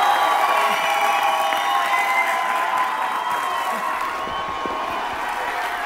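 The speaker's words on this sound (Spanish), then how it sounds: "Un fuerte aplauso para Eibar Gutiérrez" An audience applauding and cheering for a performer: a loud, continuous wash of crowd noise with clapping and shouts, steady throughout with no pauses.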